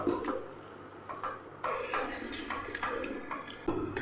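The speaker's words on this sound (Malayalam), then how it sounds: "നമ്മൾ പാലൊഴിച്ചു കൊടുക്കും നല്ല പോലെ ഒന്ന് മിക്സ് ചെയ്യാം" Milk poured into rice batter and stirred in a pot, giving wet splashes, scraping and clinking of a spoon against the vessel in uneven bursts, close up and with no voices.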